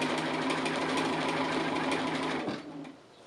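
A sewing machine stitches applique around the edge of a roof shape, a close, fast, even mechanical hum that runs steadily and then winds down near the end.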